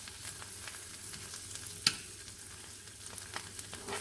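Hostas and ramps cook in a pan with a low, steady frying sizzle, broken by a sharp utensil clink near the middle and a few faint taps toward the end.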